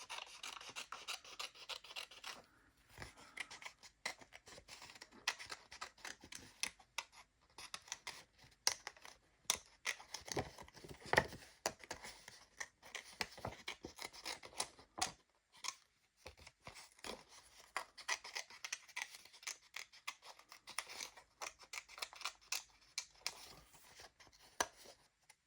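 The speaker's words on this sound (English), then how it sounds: "While this is drying, I think I want to fussy cut this out if I can." Scissors snip slowly and carefully around the edges of a paper cutout for a collage, a long run of soft crisp cuts and faint rustling close by, with brief quiet gaps between bursts.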